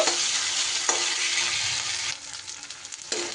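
Ginger-garlic paste with green chilli and tomato sautéing in a pan, a loud continuous sizzle with scraping stirs that briefly softens and then flares again.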